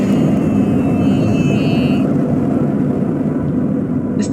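A spacecraft or stasis pod lifts off in a video game with a loud, steady, low rumbling roar. A thin high whine rides over it for the first couple of seconds and then drops away while the rumble continues.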